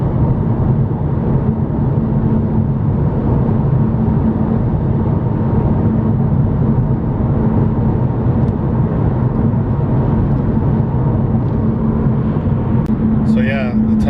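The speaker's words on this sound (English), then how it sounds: "the tires are so freaking loud" Car tires roar loudly on Deerfoot Trail highway, a constant deep, almost deafening road noise heard from inside the car, unbroken throughout with a few faint higher squeaks near the end.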